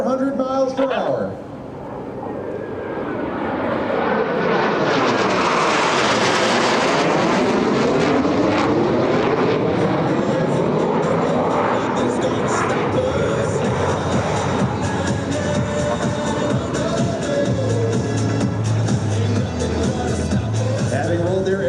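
US Navy Blue Angels jets 5 and 6 make a high-speed pass along the flight line at an air show, a loud rising roar that peaks and then sweeps away into a long, sustained rumble over the crowd.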